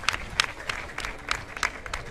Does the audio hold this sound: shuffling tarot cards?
no